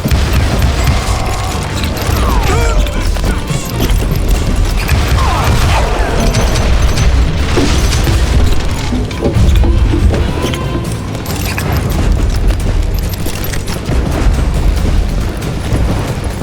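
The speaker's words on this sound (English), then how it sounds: "Right about then, I was attacked by some asshole on a Gatling gun." Gatling gun fire in the Western shooter Call of Juarez Gunslinger, a loud, dense wall of booming blasts and crashing impacts rolling on steadily for the whole stretch with no pause, with no one speaking over it.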